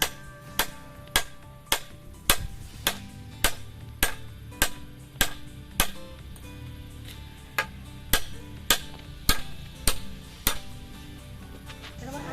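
Steady hammer blows while building a tree house, sharp and regular, roughly one strike every half second, fairly close, with a faint background hum and no talking.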